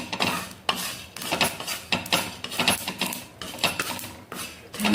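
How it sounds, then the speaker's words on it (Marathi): Masala roasts in a pan while being stirred, giving repeated close scraping and clinking strokes in an uneven rhythm, with no voices. "मसाला भाजते मी आता बघा"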